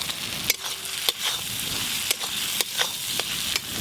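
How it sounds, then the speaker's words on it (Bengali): Fried taro pieces dropped into sizzling masala in a pan for a bhetki fish curry, a steady close frying hiss broken by several sharp stirring clatters, no talk. "এবার ভেজে রাখা সব কচুগুলো দিয়ে দেব।"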